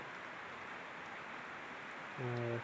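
Steady, soft rain hisses continuously, with a brief low hum rising near the end.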